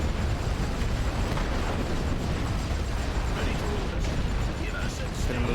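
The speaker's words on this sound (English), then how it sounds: "I'm going to get my tanks up on the side, and then we're just going to shoot into these trenches." Tank guns fire into trenches in the WW1 strategy game The Great War: Western Front, a dense, continuous roar of booming explosions and rumbling battle noise that stays loud throughout.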